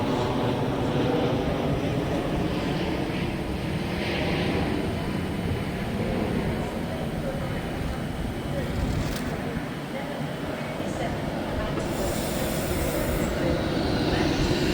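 Continuous rumble of a delayed Avanti West Coast train pulling into platform 3 at Stockport station, steady and fairly loud throughout with brief higher squeals near the end, under general platform noise.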